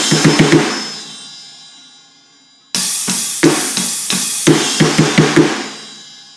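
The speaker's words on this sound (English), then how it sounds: "This fill starts with the crash and the snare on the and of 3, and then we play 4 and right left on the snare." Drum fill with crash cymbal and snare hits played alone on a kit, a burst of quick snare strokes, a pause as the crash rings out, then a loud crash and a run of snare beats.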